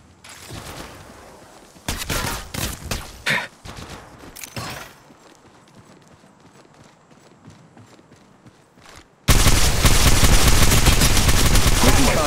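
Gunfire in the mobile video game Apex Legends Mobile, loud clustered bursts of shots in the first few seconds, then a quieter stretch, ending in a sustained loud wash of noise.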